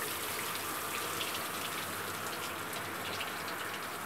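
Water sloshing and gushing steadily as a dirty car wheel rim, fitted with a Continental ContiEcoContact tyre, is soaked and washed in a tub, a continuous close rushing splash with no talk.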